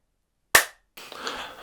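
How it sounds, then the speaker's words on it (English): A single sharp hand clap cracks out of silence, loud and close, with a short decay, followed by a stretch of quiet room noise and faint shuffling. "Okay, I'll do a clap."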